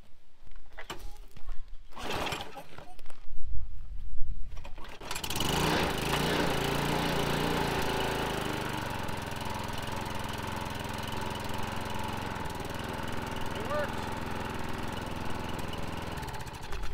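A small engine on a Huskee 22 ton log splitter is pull-started with a few rough tugs, then catches and runs steadily at a loud idle.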